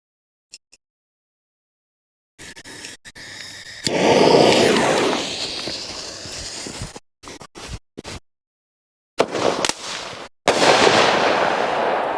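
A TNT Zombie Ward single-shot firework, red tail rising to a red star with silver glitter: a launch thump, then a loud burst with crackling decay, outdoors amid intermittent bursts of noise.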